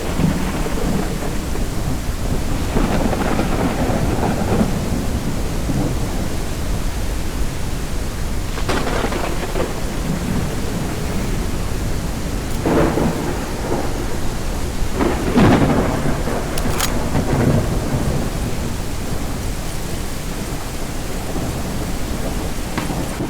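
A thunderstorm on a stormy planet in the video game SpaceBourne 2: steady heavy rain hiss with several rolling thunder rumbles and sharp cracks, loud and enveloping, no talking.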